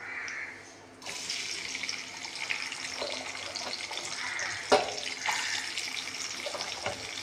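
Onions go into hot oil with fennel seeds in a pan and hiss into a steady, close sizzle that continues with small pops and a sharp clink partway through.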